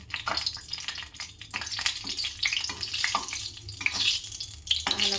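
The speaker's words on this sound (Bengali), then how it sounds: "তিনটে শুকনো লঙ্কা প্রথমে ভেজে নেব" Crackling sizzle of three dried red chillies frying in oil, with a few clinks and scrapes of a utensil, steady and close, no voices.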